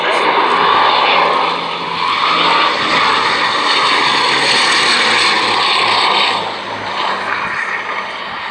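A Bristol Blenheim piston-engined aircraft flies at a Shuttleworth Collection military pageant air show, its propeller engines droning loud and continuous, easing slightly and then holding steady as it passes.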